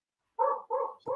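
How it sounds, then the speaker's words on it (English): Dogs bark three times in quick succession, short, clear, close barks standing alone against silence. "My dogs are barking."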